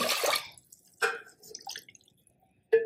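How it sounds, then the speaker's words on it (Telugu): Water splashes into a pressure cooker pot with soaked urad dal in a few short bursts, with quiet gaps of dripping between them. "3 కప్పుల వాటర్ పోసిన"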